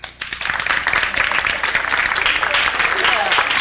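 Audience applause in a comedy club, sustained clapping from a crowd that fills the room for several seconds, steady and fairly loud throughout with crowd noise mixed in.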